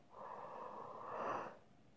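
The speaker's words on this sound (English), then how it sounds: "I got a yawn." A single quiet, breathy human yawn lasts a little over a second. It swells toward the end and then trails off, with no other sound around it.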